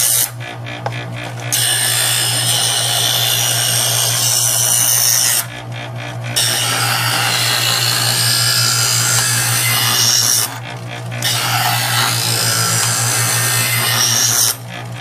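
A Chef'sChoice 120 electric knife sharpener grinds a pocket knife through its slots: a steady motor hum runs throughout while two long, loud gritty rasping passes sweep across, each several seconds long, separated by brief pauses.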